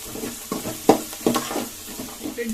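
Turmeric fries in a pan of oil for South Indian lemon rice (chitranna), giving a soft sizzle broken by several scraping stirs of a spoon against the pan, close and moderately loud, with no voices.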